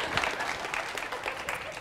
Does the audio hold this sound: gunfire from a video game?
no